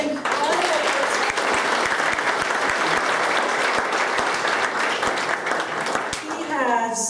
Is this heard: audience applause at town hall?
yes